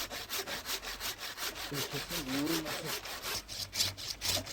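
A hand saw rasps steadily through a thick peach tree branch for cleft grafting in quick, even back-and-forth strokes, close by and continuous, with a faint voice briefly underneath.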